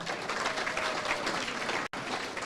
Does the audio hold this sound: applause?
yes